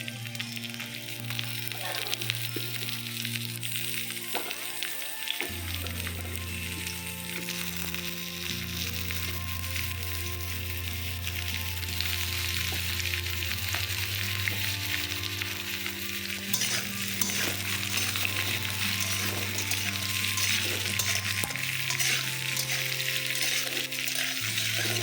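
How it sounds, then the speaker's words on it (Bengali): Papaya tipped into a pan with egg and potato, frying with a loud steady sizzle and spatula stirring, close and continuous, while a low sustained hum runs beneath throughout, with no talking. "এখন আমি পেঁপেটা দিয়ে দিলাম।"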